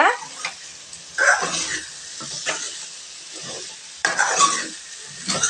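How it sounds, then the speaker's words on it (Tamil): A spoon scrapes and stirs chicken liver chukka frying in a pan, in intermittent bursts of scraping over a soft sizzle. "நல்லா தண்ணி சுண்டுற வரைக்கும் கிளறி எடுத்துக்கலாங்க."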